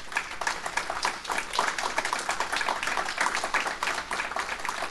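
A church congregation claps hands together during a Sunday morning service, a dense, steady roar of many overlapping claps that continues without a break.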